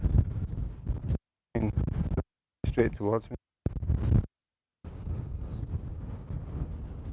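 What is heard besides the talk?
wind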